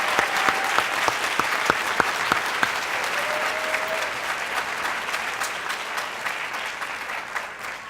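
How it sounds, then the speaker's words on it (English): Audience applause at a school district Teacher of the Year reception, a dense crowd of clapping with a few sharp, nearer claps early on, holding steady and slowly thinning toward the end. "I would like to ask everyone to please join me in giving everyone on stage one more round of applause"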